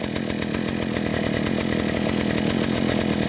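A Kaaz Mitsubishi TLE48 47cc two-stroke brush cutter engine runs steadily at a constant, loud, buzzing drone with a fast, even pulse and no talk over it.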